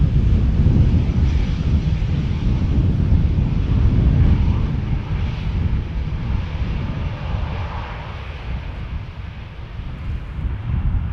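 A JetBlue Airbus A321neo rumbles with a broad, steady engine roar at Amsterdam Schiphol, the low noise holding strong and even, mixed with wind buffeting on the microphone.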